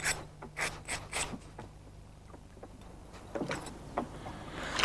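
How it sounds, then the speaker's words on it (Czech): Fishing hooks are sharpened on both sides with a special hook file, giving short, close rasping strokes in quick bursts, then a pause and a few more scraping passes. "Speciálním brouskem háčky z obou stran přibrušujeme, aby se nejenom zapíchly, ale i zařízly."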